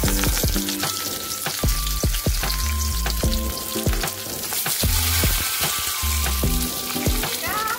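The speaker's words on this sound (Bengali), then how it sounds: "জোর কমিয়ে ভাজতে হবে।" Parshe fish wrapped in gourd leaves fry in hot oil in a karahi, a close, crackling sizzle broken by repeated sharp clinks and scrapes of a spatula, with no talk.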